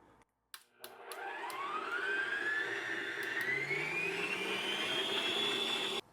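An electric mixer whirs into life and runs steadily, its motor pitch climbing as it beats cupcake batter of lemon juice, lemon zest and vanilla, loud and close until it cuts off.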